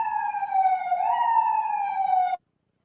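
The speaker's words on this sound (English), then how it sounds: "The sirens are not cool. They are in my ear." Police car siren outside, a single sustained wailing tone that holds steady with a slight rise and fall, moderately distant, then cuts off abruptly near the end.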